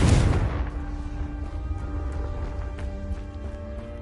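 A Confringo blast spell cast in Hogwarts Legacy, striking as a loud deep boom at the start that rolls off into a long ringing, echoing decay.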